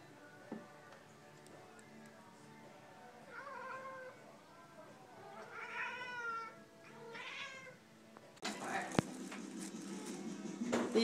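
A cat meows several times, rising and falling cries, while a person talks nearby; a louder burst of noise comes near the end.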